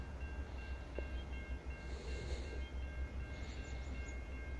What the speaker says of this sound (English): It's the old style N class locomotive.